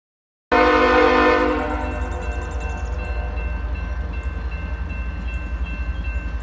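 A loud train horn blares for about a second, then a heavy loaded coal train rumbles steadily past with a low continuous roar.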